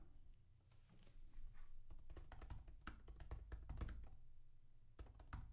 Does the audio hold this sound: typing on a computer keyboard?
yes